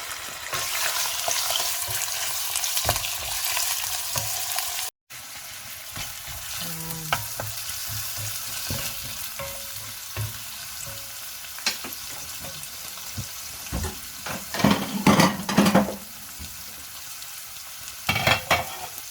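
Liver sizzles in hot oil in a pan for stir-fried pancit canton noodles, a continuous close frying hiss with a brief cutout, followed by intermittent stirring scrapes and clatters.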